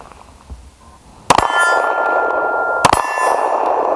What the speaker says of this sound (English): So you guys can get an idea relative to that target what the audible report of these targets is.